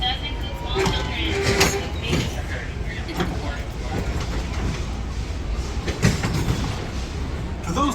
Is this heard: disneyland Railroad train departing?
yes